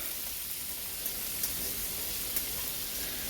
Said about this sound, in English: our butter is melted and ready for the cauliflower, so I'm just gonna put that in